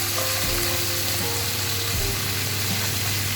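Potatoes dropped into a hot pan with oil, frying in a steady loud sizzle with a couple of soft stirring knocks, close up in a home kitchen while a fish dish with radish is cooked, with no talking.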